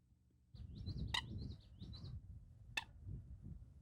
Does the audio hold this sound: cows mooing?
no